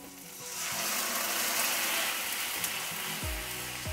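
Red amaranth greens are poured into a hot turmeric tempering and a loud, close sizzle flares up at once, holding as a dense hiss with faint stirring knocks toward the end, no one speaking.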